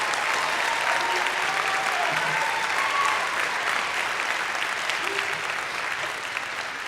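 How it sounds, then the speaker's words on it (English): An audience at a winter commencement applauds the graduates, a dense, sustained wave of clapping with a few voices mixed in, staying loud throughout. "Let's give them a round of applause as we start."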